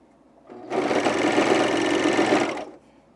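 Sewing machine stitching elastic onto underwear: a steady, close, loud mechanical whir lasting about two seconds, starting and stopping cleanly, with no talk.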